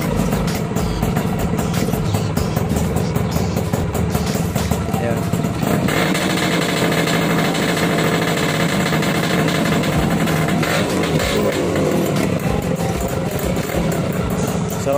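A Kawasaki HD3 motorcycle engine runs nearby at a steady idle, then rises into a higher rev partway through, with a continuous rough rumble and a voice talking over it.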